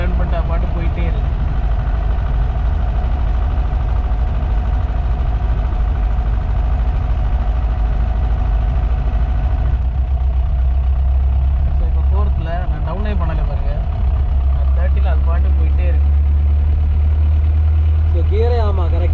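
A 1984 Hindustan Ambassador taxi's engine runs steadily while the car drives, a continuous low rumble throughout, with someone talking over it near the end.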